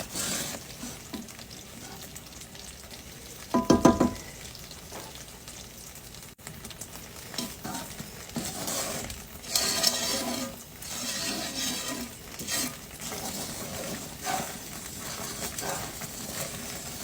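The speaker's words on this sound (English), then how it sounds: "you want to boil it for 10 minutes. And you want to stir it every once in a while so it doesn't stick" A pot of caramel boiling on a stove bubbles and hisses steadily, with one louder burst of stirring and clatter early on and softer intermittent utensil scrapes afterward.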